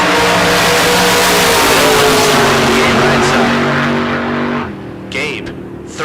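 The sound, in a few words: 1963 Corvette drag racing launch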